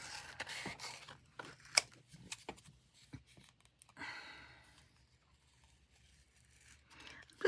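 Scissors snipping paper for a Christmas tag, close and quiet, a few sharp separate cuts with soft rustling and handling noises between them.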